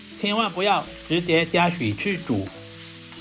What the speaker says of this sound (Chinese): 把西紅柿塊直接倒在鍋裡，開中火不停的翻炒